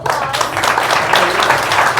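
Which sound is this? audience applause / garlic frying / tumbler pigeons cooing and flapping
audience applause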